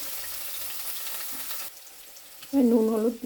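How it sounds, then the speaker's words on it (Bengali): Chopped vegetables with curry leaves sizzle loudly in hot oil in a pan for chowmein, then the frying drops to a quieter hiss before a short tonal sound rises near the end. "সবজিটা একটু ভাজা হোক।"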